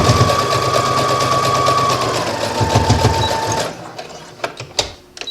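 A sewing machine runs steadily for several seconds while basting a pocket onto a garment seam, a close, even mechanical whir that stops, leaving a few soft clicks and handling sounds.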